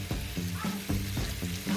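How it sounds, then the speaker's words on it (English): A vegetable medley with potatoes sautés in a pan over low heat, giving a steady close sizzle with repeated stirring scrapes at a regular pace, no voices. "this beautiful medley is sauteing, frying away."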